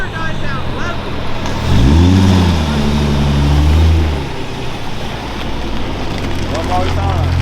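Engine of an Infiniti G37X rising in a loud, deep rev that holds for about two seconds, then falls away and settles back to a low idle, heard from inside the car on a hilly street drive.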